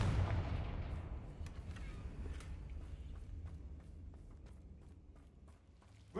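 A Confringo blasting spell goes off in Hogwarts Legacy with a heavy booming impact that rumbles and fades over several seconds, with light tapping steps afterward.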